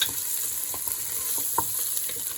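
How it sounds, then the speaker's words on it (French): Onion sizzling in a hot pan as it fries, a continuous close crackling hiss with small pops throughout, no voices. "J'ai ajouté l'oignon que je vais laisser frire."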